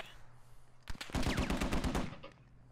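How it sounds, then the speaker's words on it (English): Automatic gunfire in the tactical shooter Squad, a dense burst of rapid shots close by lasting about a second, with fainter scattered shots before and after. "I don't see whatever the fuck is shooting at me."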